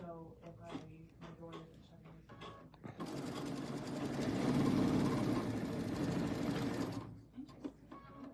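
A sewing machine stitches quilt pieces in a steady, close whirring run of several seconds, with people talking before and after the stitching.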